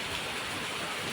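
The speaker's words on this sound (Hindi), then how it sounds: "अब बारिश तो कम हो चुकी है।" Light rain easing off outdoors, a dense, even hiss of falling drops that stays steady and fairly soft throughout, with no voices.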